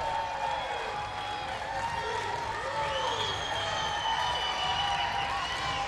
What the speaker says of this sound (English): And a decent crowd that showed up here tonight to cheer on Minnesota